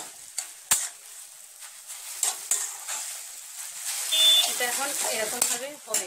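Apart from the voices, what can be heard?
spices sautéing and sizzling in oil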